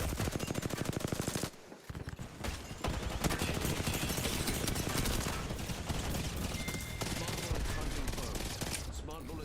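Rapid, sustained automatic gunfire from smart bullets in Apex Legends, loud and dense for most of the stretch with a short break near the start, with voices talking over it.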